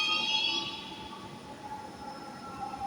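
A metro train arriving at a station: a steady low rumble of rolling wagons with a thin high tonal whine above it, heard from nearby at moderate loudness and fading slightly as it slows.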